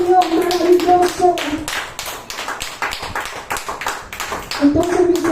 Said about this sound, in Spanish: Dele palmas a ese Dios maravilloso.